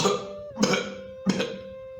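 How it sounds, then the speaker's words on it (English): Two harsh, throaty coughing bursts about half a second apart, close and loud, over a steady low hum. "The lizard tried to cough the fish bone out"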